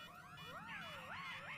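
An alarm in the Plants vs Zombies Garden Warfare 2 video game sounds as a rising and falling electronic siren wail sweeping up and down, fairly quiet and alone without talk.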